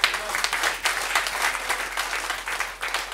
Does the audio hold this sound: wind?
no